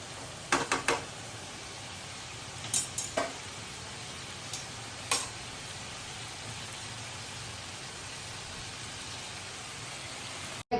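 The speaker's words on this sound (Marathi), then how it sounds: "बघा आता पटकन मी फ्राय करून घेतली कोलबी" Small kolbi shrimp fry in a pan with a steady, soft sizzle throughout, broken by a few sharp clicks and taps of a utensil near the start and middle.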